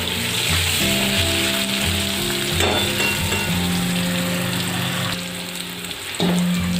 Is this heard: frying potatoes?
yes